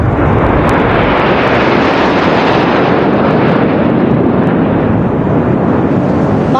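Three Su-30 fighter jets flying past in Trishul formation at about 750 km/h over the Republic Day Parade, a loud, continuous broadband roar that stays strong and steady throughout, with no speech.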